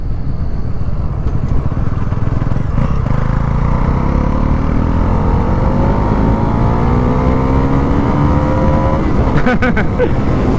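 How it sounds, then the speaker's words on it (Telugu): A black 2024 Bajaj Pulsar NS400Z motorcycle under way, its engine a loud, steady drone whose pitch climbs smoothly as it pulls harder, with constant road and wind noise throughout. "అసలు ఇంజన్ పుల్ అయితే మామూలుగా లేదు బ్రో."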